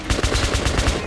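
Rapid automatic gunfire in the video game Metro Last Light, a loud, steady burst of evenly spaced shots heard up close with no talking.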